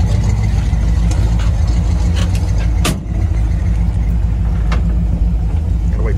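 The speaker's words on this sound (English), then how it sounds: "we're gonna take a quick test drive. It's a 1968 GT500E." A 1968 Shelby GT500E holds a steady, loud low engine rumble throughout, a constant close drone with a brief dip near the middle and no voices.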